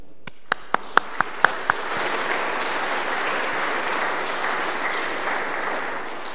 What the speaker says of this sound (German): Sonst wird nicht geklatscht in der Kirche, aber es gibt heilige Ausnahmen.